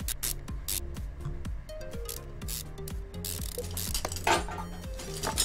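Ratchet wrench clicking rapidly as a leaf spring is bolted down in Car Mechanic Simulator 2015, bursts of crisp mechanical ratcheting repeating in quick sequences, close and clear without speech.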